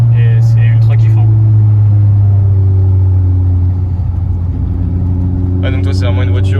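A Suzuki Swift Sport's engine holds a loud, steady rev with a strong low hum throughout, easing slightly midway before climbing again, with brief higher whines near the start and end.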